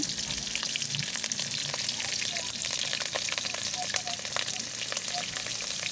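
Green chilies fry in hot oil in a pan while cooking a vegetarian soybean and pumpkin dish, giving a loud, continuous sizzle with crackling pops and occasional stirring.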